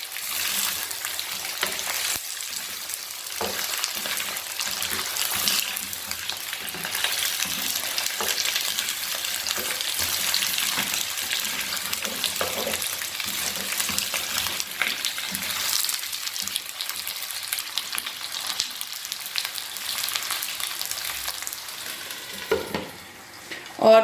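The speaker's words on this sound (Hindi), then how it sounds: "एक हल्का सा हम इसको स्टर देंगे।" Potato curry fries in a karahi, a dense continuous sizzle with soft stirring scrapes throughout, close and steady, without speech.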